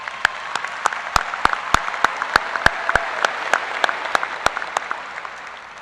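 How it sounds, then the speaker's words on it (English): A large audience at the Troy Buchanan High School 2021 graduation ceremony applauds, a dense, sustained patter of clapping with sharp individual claps popping out close by, tapering off at the end. "Let's give them a round of applause, please."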